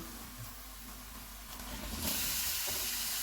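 Minced meat frying over high heat with golden onions and ginger-garlic paste, a steady loud hiss and sizzle that swells toward the end, with no voices.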